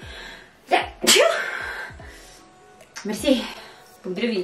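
A woman sneezes sharply once, close up, then speaks in a conversational voice just afterwards.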